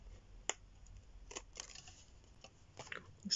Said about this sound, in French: je mets de la colle et je découpe à la largeur de mon tag